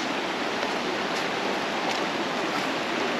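River water rushes over rocks at a riverside campsite, a steady, broadband roar that stays constant and fairly close with no voices.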